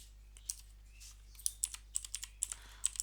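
Quick, light clicks of typing on a computer keyboard, close and fairly quiet, in a run of irregular keystrokes over a soft steady hum, with no talking.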